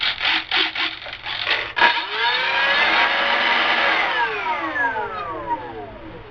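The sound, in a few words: electric motor of E-flite Spitfire RC plane at full power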